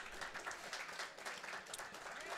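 Audience applause at a Super Street Fighter II Turbo fighting game tournament fills the room, a steady, fairly faint wash of many hands clapping together for a couple of seconds.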